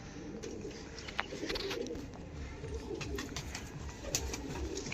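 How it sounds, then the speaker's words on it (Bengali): Andhra pigeons coo in a pigeon sale loft, low soft throaty coos repeating under faint background rustle and noise. "এই পায়রাগুলো কি কলকাতার পায়রা না আন্ধ্রা পায়রা? এটা আন্ধ্রা থেকেই আনানো।"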